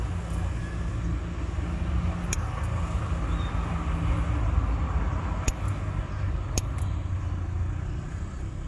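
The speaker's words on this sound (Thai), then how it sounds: "คุณลุงขี่สกูตเตอร์ผ่านเราทุกวันนะคะเสียงสกูตเตอร์ลุงดังกว่าเสียงรถบรรทุกอีก" A loud scooter ridden past by an older man, its engine a steady, continuous roar that fills the whole stretch close by, with a few sharp clicks on top and no talking.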